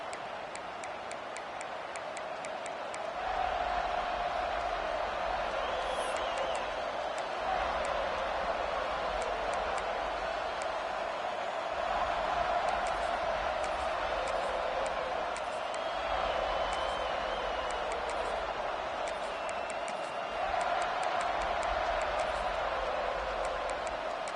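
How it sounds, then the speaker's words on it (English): A college football video game plays a stadium crowd as a broad, steady roar that surges several times, with faint bounces and clapping, under a commentator's talk. "This crowd ready to make its presence known."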